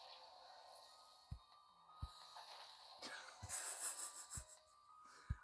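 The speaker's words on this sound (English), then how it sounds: "I don't know if you can hear Lishu snoring." A cat named Lishu snoring on a windowsill, faint wheezy breaths with soft snorting catches at irregular intervals, heard at low level in the background of a quiet room.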